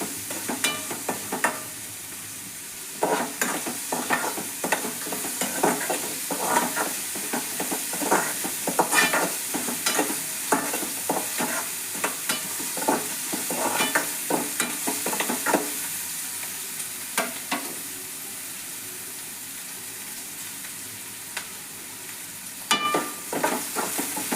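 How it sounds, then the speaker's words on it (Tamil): Garlic, black pepper and cumin sautéing in a pan for spinach dal kootu: a constant close sizzle broken by frequent sharp stirring scrapes through most of the stretch, with no talking. "நல்லா வதங்கிடுச்சு"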